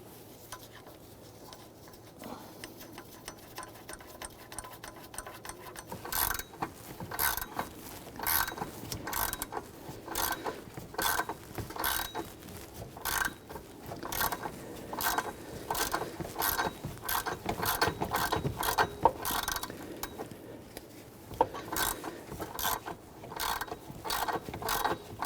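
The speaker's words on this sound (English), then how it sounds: "Need to remove the pulley off of a power steering pump here." Pulley being removed from the power steering pump of a 2007-2014 Cadillac Escalade 6.2L V8 with a pulley puller, close rapid ratcheting clicks in repeated bursts.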